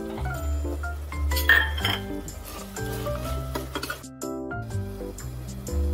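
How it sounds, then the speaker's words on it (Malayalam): A spoon stirs curd and lemon juice together in a bowl, giving repeated clinks and scrapes against the dish in an irregular rhythm, close and moderately loud. "ഒരു നാരങ്ങയുടെ ജ്യൂസും കൂടി ഒഴിച്ച് നമുക്കിതിനെ മിക്സ് ചെയ്തെടുക്കാം."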